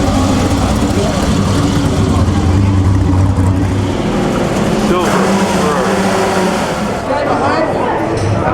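A Fiat V8 race car engine drones loudly and continuously at the Mille Miglia road race, a steady low roar with a slight rise midway, mixed with crowd noise and voices.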